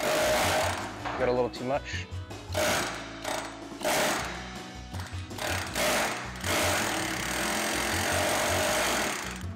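An air-powered planishing hammer rattles rapidly against sheet metal in loud, buzzing bursts that start and stop, with someone talking between and over the runs.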